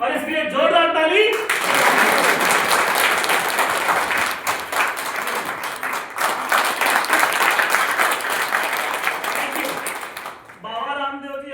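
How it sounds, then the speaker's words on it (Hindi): Audience at a Sunday seminar hall presentation breaks into loud, steady applause that fills roughly nine seconds, with a voice talking briefly before and after the clapping. "इसके लिए जोरदार ताली।"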